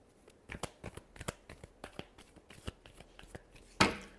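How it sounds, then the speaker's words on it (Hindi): Tarot cards being shuffled by hand, a run of quick soft riffling flicks in an uneven rhythm, close and quiet, ending in one sharper slap of the deck. "Last shuffle."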